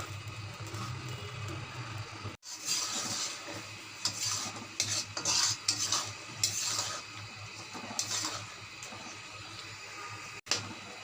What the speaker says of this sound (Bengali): মাছটা এখন মশলার মধ্যে কষাবো